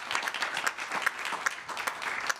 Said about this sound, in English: Can we please give Manish Babna a round of applause?